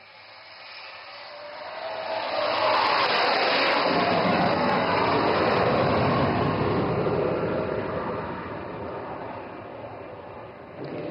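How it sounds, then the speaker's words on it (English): Fighter jet with a lifting body and thrust vectoring making an overshoot pass at an air show in Assam, a broad roaring rush that swells to a loud peak mid-pass and slowly fades away. "Bhadoria with Flight Lieutenant Benipal, is now coming in for an overshoot. Observe the massive lifting body and thrust vectoring authority"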